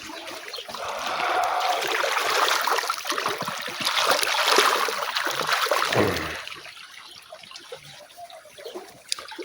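Clean stream water in Khanozai flows steadily and close by with a continuous rushing, splashing wash that swells and eases over several seconds, with no talking.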